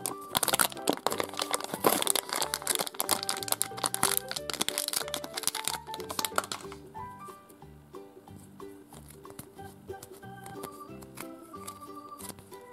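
A crinkly plastic packet holding hand gum is torn and crumpled up close with busy crackling for several seconds, then it fades to softer rustling under light music.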